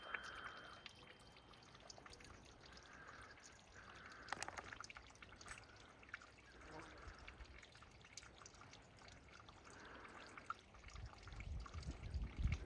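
Quiet water trickles and dribbles continuously from a mountainside seep along a rail trail, a faint gentle flow with occasional soft splashes, close by and otherwise calm.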